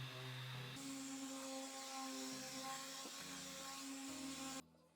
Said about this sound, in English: Now I'll just run this over one more time with the sander, clean up some of the corners